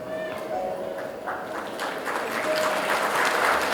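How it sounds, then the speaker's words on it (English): An audience at a school annual day ceremony applauds, the clapping fairly distant and soft at first, then swelling steadily louder toward the end. "Let's give them a big round of applause, please."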